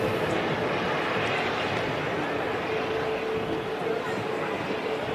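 Saudi airliner taxiing at Manchester Airport, a steady, fairly loud engine roar with a faint whine, continuous throughout with no breaks.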